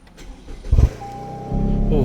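A Toyota GR Yaris fitted with an Akrapovic exhaust cranks and fires up nearby, a brief starter whirr followed by a loud deep engine catch that settles into a steady idle rumble.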